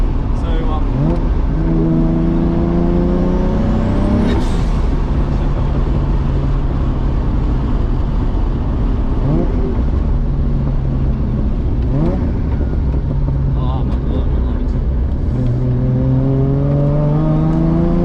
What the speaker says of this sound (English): It just feels so good to drive this car again.